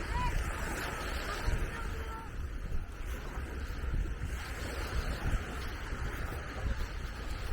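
Ocean surf on a shoreline walk, a steady broad rush of waves and wind noise filling the background continuously, with a voice talking faintly beneath it.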